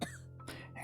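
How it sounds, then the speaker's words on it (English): A single short cough bursts out at the start, followed by quieter breathy throat sounds and a second rougher cough near the end. "coughing racks my body now that I don't feel like choking."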